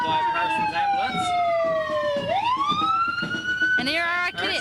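An ambulance siren sweeps and wails continuously as it passes in a street parade before a crowd, with the tone falling, rising and then re-sweeping near the end, loud and close under crowd noise.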